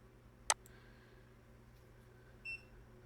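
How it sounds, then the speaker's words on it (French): A single short electronic beep from a LaserPecker LP4 laser engraver as it connects over USB, faint, followed by a quiet click, over a low steady hum. "Vous entendez le petit bip pour vous dire que la machine est connectée."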